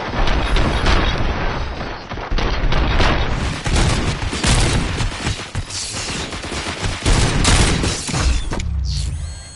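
Dense gunfire in the video game Robocop: Rogue City, with overlapping rapid bursts, heavy impacts and booms running loud and nearly continuous throughout.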